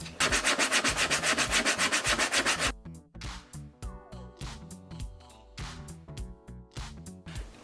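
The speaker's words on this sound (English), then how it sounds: "You can also use sandpaper to even out surfaces and seams that didn't quite line up all the way." Sandpaper rubbed by hand across a seam in EVA foam, giving fast, steady, close scratchy strokes for about three seconds before stopping; scattered clicks and tonal sounds follow.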